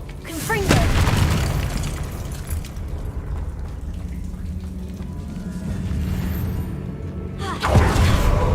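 The Confringo fire spell explodes in the Hogwarts Legacy video game, with a heavy boom near the start and another near the end, and a rumbling, crackling wash of noise in between.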